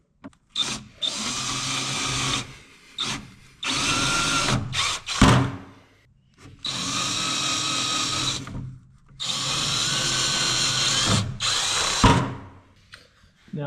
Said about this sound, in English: Now those holes are drilled.